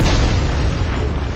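Grenade explosion in SpyHunter: Nowhere To Run, a loud, dense booming blast that fills the whole short moment with a roaring rumble and no pause.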